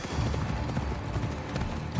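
Horse hooves clip-clop in Assassin's Creed Odyssey, a dense, fairly loud patter of steps blurred together under steady ambient game noise, with no speech.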